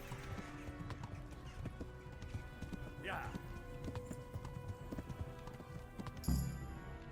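Horse hooves clip-clop steadily in the medieval game Kingdom Come: Deliverance, with an occasional whinny and a sudden louder thud near the end, under someone talking.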